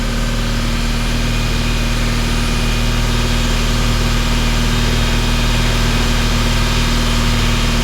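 Mercedes-Benz bus engine running close by with a steady, heavy diesel drone and constant vibration throughout, holding a loud even idle-like rumble with no talk over it.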